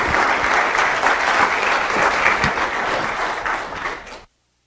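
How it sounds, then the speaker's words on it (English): Loud, dense applause from a lecture audience welcoming a speaker, sustained for several seconds and then cutting off abruptly into silence. "I love getting applause before I even say anything."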